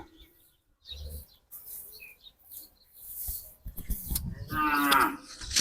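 Cattle at a busy cow market give several low moos, a loud drawn-out call building near the end, with faint bird chirps and background murmur around them.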